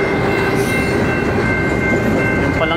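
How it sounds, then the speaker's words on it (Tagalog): A long train rolls past at close range, a loud and unbroken rumble of wheels on rails with metallic ringing, steady throughout and no talk. "mahaba yung tren."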